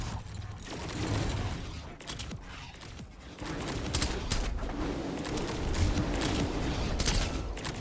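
Rapid bursts of gunfire from the video game Fortnite crackle loudly and repeatedly, overlapping with clicks and mechanical game sounds and scarcely any talk.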